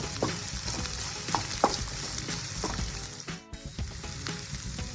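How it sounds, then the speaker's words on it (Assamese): Onions frying in oil for a vegetable manchurian gravy give a steady, close sizzle with scattered crackles and a brief scrape of stirring near the end. "পিঁয়াজখিনি অকণমান ভাজিব লাগিব।"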